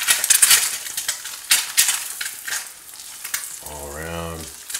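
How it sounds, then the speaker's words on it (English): An egg frying in The Rock non-stick pan makes a close, steady sizzle with light clinks and scrapes, and a brief low hum rises near the end. "the egg is getting a little bubbly"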